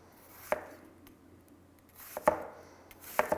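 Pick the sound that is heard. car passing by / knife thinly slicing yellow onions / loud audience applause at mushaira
knife thinly slicing yellow onions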